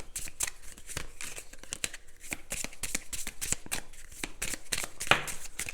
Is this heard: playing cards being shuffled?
yes